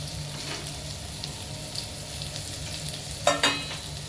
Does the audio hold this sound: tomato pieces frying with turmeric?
yes